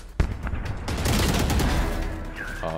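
Shotgun fire in the game Valorant, a sharp blast followed by a dense burst of overlapping gunfire and a brief rising tone at the end, loud and close.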